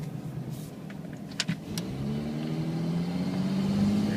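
A 2006 Dodge Ram diesel pickup accelerates from low speed, a few clicks and knocks giving way to a rising engine drone and a faint turbo whine that climbs steadily near the end.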